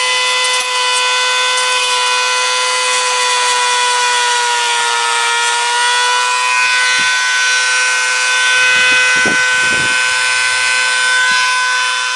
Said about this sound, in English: I'm also going to use the grinder to smooth it out a little bit.